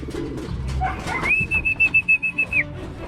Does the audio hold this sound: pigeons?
yes